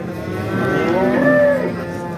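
A cow at a livestock market lets out one loud, drawn-out moo close by, rising and then fading over about a second.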